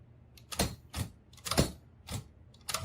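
Royal Quiet DeLuxe manual typewriter with its tab key pressed, the carriage moving along in quick mechanical clacks and rattles, about five or six sharp bursts close by, with no talk.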